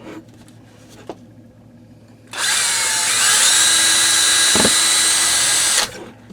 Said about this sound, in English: That drill's chooching pretty good.